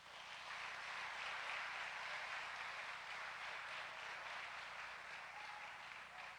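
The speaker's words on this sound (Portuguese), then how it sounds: "Pode aplaudir o Senhor." A church congregation applauds in a dense, continuous wash of clapping that stays steady and fairly distant throughout, with no voices standing out above it.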